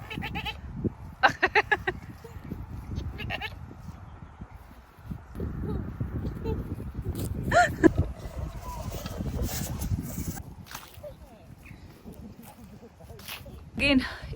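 Goats bleating at a UK farm on a family day out, several short high bleats near and far amid constant chatter of visitors and general crowd noise.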